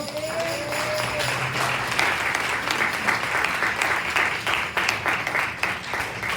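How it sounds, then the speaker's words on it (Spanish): Church congregation applauding together during a sermon, a dense, steady wash of clapping that fills the whole stretch at close range, with a faint sustained tone under the opening seconds. "Den ese aplauso al Señor."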